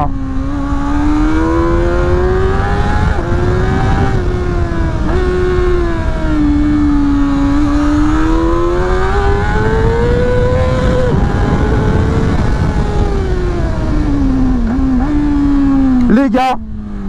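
A 2024 Honda CBR 600 RR motorcycle engine revs hard and loud from up close, its pitch rising and falling as it accelerates through gears, with a rider talking over the steady engine note.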